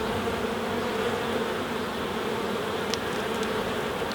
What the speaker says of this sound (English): There's another whole packet, a carpet of bees there